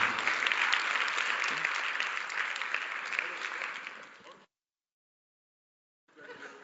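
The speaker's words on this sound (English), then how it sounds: "another round of applause for the Lewises" Applause from an audience at a National School Choice Week event honoring the Lewises, dense clapping that slowly fades out, followed by a gap of silence and a brief return of clapping at the end.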